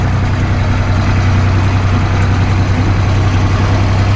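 A tractor engine idles close by with a loud, steady low-pitched diesel rumble that holds unchanged throughout, with no talking over it.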